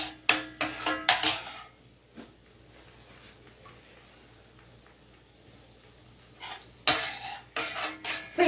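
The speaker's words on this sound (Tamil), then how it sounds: "கொஞ்சமாக பிங்க் கலரில் ஆனியன் வர வரைக்கும் கொஞ்சமாக வதக்கிக்கலாம்." Onions being lightly sautéed in a pan until just pink, heard as bursts of scraping and stirring with a spatula against the pan at the start and end, separated by a quieter stretch of soft sizzling.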